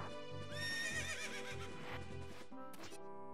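A horse whinnies loudly in The Legend of Zelda: Ocarina of Time, a long rising and falling neigh over a rhythmic clip-clop of hooves, then a final sharp in-game sound.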